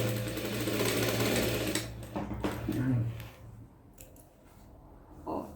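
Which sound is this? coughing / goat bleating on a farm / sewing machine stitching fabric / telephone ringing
sewing machine stitching fabric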